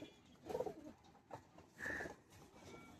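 Pigeons kept for sale coo softly, with a few separate low coos and a brief higher call spaced across a quiet, fairly near background.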